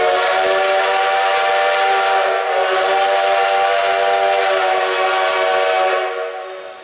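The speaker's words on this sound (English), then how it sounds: "Listen for the 2 whistles from Engineer Jared." A steam locomotive whistle on the Black Hills Central Railroad sounds loud and near as a sustained, harmonically rich tone lasting about six seconds, dipping briefly partway through before it fades out.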